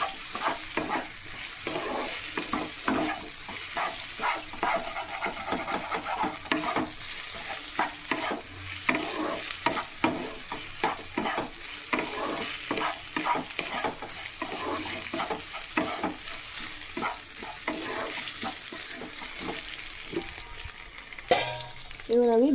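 An egg fries in a pan with day-old rice cooking, a steady sizzle broken by frequent scraping stir strokes of a spatula, close and continuous, without talk.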